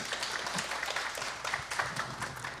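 Audience applause at an infrastructure and environment panel as a panelist is welcomed, steady moderate clapping from a mid-sized crowd, continuous and fairly close.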